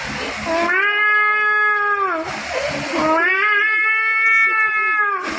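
A voice imitates two cats fighting at night, with long, rising and falling yowls and caterwauls in three drawn-out bursts, loud and close, with no other talk.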